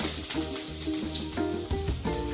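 Curry leaves dropped into hot oil with mustard seeds, a loud close sizzle that surges in repeated bursts as the pan is stirred, with no voices.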